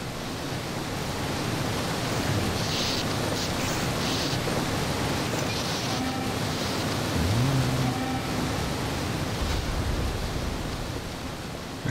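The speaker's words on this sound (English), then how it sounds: "Water was awfully loud, wasn't it?" Constant broad rushing roar of an airboat skimming over water in Half-Life 2, steady and loud throughout with a faint tonal whine rising midway.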